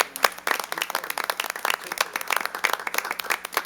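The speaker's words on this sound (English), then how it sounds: "one more big round of applause for our fire department" A city council meeting audience applauds the fire department, with dense, lively clapping from a small crowd that holds steady for several seconds at close range.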